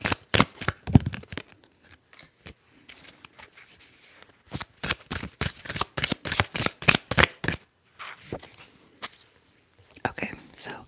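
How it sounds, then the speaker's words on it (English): Tarot cards being shuffled by hand in quick bursts of crisp riffling taps, close and intimate, separated by pauses and soft whispery sounds. "so let me shuffle again."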